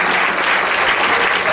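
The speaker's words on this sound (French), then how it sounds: "On acclame le Seigneur." Church congregation at a worship service breaking into loud, sustained applause, a dense wash of clapping filling the room throughout.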